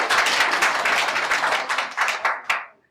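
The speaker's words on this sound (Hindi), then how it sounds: "सभी तालियां बजाकर इनका स्वागत करें।" A small group in a Hindi coaching class claps to welcome a guest lecturer, a close, loose patter of individual claps that thins into a few last slaps and stops.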